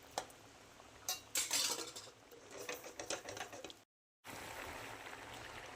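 Sardine curry with kudampuli in a pot being gently stirred from the side, with scraping and clinking of a spoon against metal in uneven bursts, then a brief gap and a steady low simmer, no talk.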